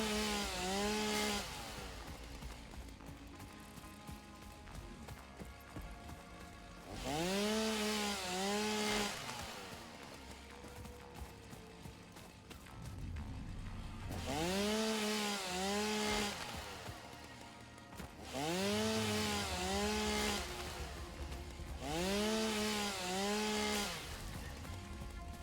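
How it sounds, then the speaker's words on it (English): A chainsaw cuts down trees in the video game Satisfactory, revving up in four or five loud bursts that each last a couple of seconds, separated by quieter idling gaps. "What we're aiming for with the chainsaw is just to get the trees down."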